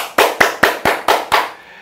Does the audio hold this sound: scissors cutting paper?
no